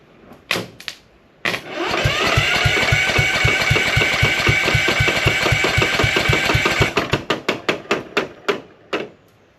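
Husqvarna CT151 lawn tractor engine running with its deck clutch spinning freely, a loud rapid knocking rhythm for several seconds, with separate mechanical thumps before it and a slowing series of thuds as it stops.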